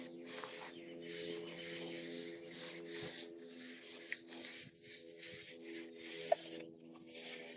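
A brush rubs stain onto a wooden deck in repeated soft scraping strokes, a steady rhythmic swish over a low background hum, with a couple of faint clicks.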